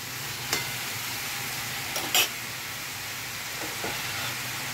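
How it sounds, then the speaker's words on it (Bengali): Vegetables stirred and fried in a pan for sabudana khichdi, a continuous close sizzle with a few sharp scraping strokes of the spoon scattered through, no talking. "এবার সবজিটা ততক্ষণে ভাজা ভাজা করে নিই ভালো করে।"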